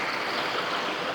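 Creek water rushes steadily through a narrow, skinny stretch of the stream, a close, continuous broadband flow with no pauses.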